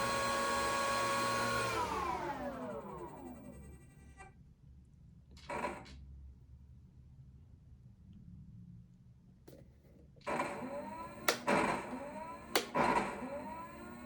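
An E-Flite Cirrus SR22T 1.5m RC plane's electric motor runs in throttle reverse, whining strongly and then winding down. After a pause it briefly spins up again with sharp clicks, close and loud, with nobody talking.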